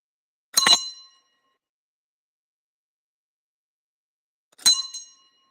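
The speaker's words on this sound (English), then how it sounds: "I'm gonna ring this bell" Two separate bright, ringing strikes of a small hand bell, each decaying quickly into silence, spaced about four seconds apart and heard alone.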